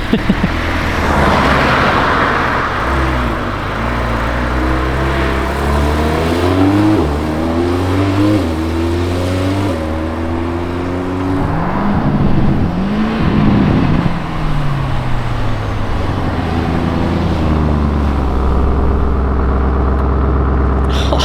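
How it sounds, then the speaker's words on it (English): A Lamborghini Urus S exhaust revving repeatedly, its deep rumble climbing and falling through several rising sweeps before settling into a loud, steady idle. "Listen to the exhaust. And it's just a regular Urus S."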